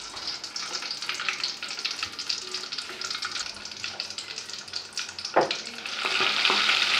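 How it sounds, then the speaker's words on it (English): Mamone sizzling steadily as it fries in a pot, a continuous close crackle with a brief louder pop partway through and no voices. "our mamone has been frying for some time now"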